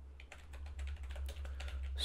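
Fingers type on a computer keyboard, a quiet, steady patter of key clicks lasting about two seconds with no talking.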